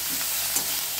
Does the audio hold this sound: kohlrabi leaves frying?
yes